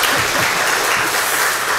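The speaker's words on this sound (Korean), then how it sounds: "박수 한번 치셔야죠." Church congregation applauding together in a steady, dense wash of clapping that fills the room, loud and close, with a few low voice murmurs underneath.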